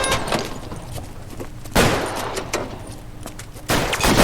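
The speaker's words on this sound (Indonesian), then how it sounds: "Tembak-tembakan Sur." Gunfire in a shootout in the video game LA Noire: rapid bursts of shots and heavy booms, loud and close, with sharp blasts punctuating continuous firing and no talk.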